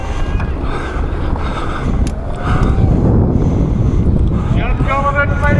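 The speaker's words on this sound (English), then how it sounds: "I didn't like the wind." Strong wind buffets the microphone during a mountain bike ride down a steep ravine, a loud continuous roaring rumble that swells halfway through, with brief voices faintly underneath.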